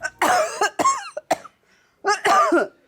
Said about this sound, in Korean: 한겨울에 시작해서 수개월째 이어지고 있다는 기침과 가래.